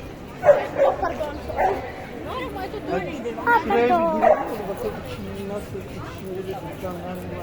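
A dog barks and yips a few times, fairly close, mixed with people talking over it.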